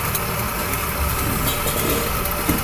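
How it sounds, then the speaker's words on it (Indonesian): A dough grinding machine for banana molen pastry runs with a steady, dense mechanical hum and whir, loud and continuous, with no voices. "Adonannya digiling pakai mesin penggiling."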